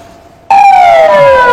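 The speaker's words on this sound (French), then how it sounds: "Derrière cette ambulance avec gyrophare activé, il y a sans nul doute une urgence médicale vitale." An ambulance siren in Goma suddenly blares very loud and close after a faint tone, its wailing pitch sliding downward.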